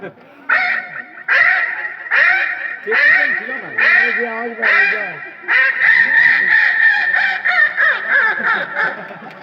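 A human voice imitates wild ducks calling in alarm, giving a loud, close series of rhythmic honking quacks in bursts that speed up into a rapid run of calls.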